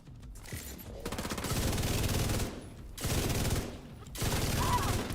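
An LMG light machine gun fires in a video game in three long, rapid automatic bursts separated by short pauses. The fire is close, loud and relentless, with no voices.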